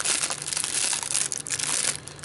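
Crinkly plastic snack packets of taco shells and Pop Tarts being opened and handled close up, giving a dense run of crackling, rustling crumples that come in quick bursts.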